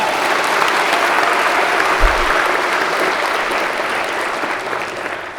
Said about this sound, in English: Yay, we can clap for that.